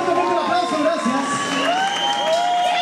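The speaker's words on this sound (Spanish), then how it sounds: "Un fuerte, fuerte aplauso, gracias." Crowd at a live band show in a western club cheering and whooping with some clapping, loud and close, with shouts and whistles rising over the noise.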